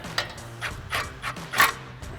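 Nut being worked off the steering knuckle of a Ford F-150 during a leveling kit install, a run of short ratcheting bursts with metallic clicks and scrapes, close by and moderately quiet.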